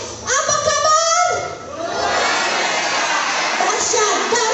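A church congregation at a Christmas 2023 service shouts back a loud response in unison, a broad roar of many voices that swells after a single voice leads off and then holds steady.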